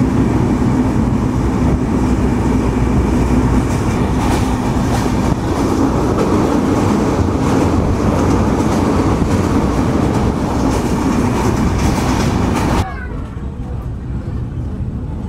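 Inside a Madhumati Express LHB coach nearing Ishwardi Junction, a steady loud rolling rumble with faint rhythmic clatter continues throughout, easing slightly near the end.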